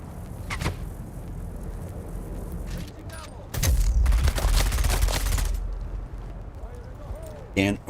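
Sniper fire in Dune Awakening: heavy, booming gunshot bursts crash in through the middle stretch, loud and close, while someone talks over the steadier background before and after.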